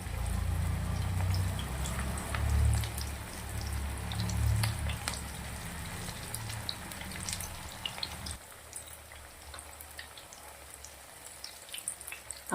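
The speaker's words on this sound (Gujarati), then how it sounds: "તેલ ગરમ થઈ ગયું છે તો આપણે એવી રીતે એક એક કબાબ ધીરે ધીરે મૂકી અને પછી તળી લેવાનું છે" Veg Maggi kebabs frying one by one in hot oil, a steady close crackle with low bubbling that thins after several seconds into sparse, scattered pops.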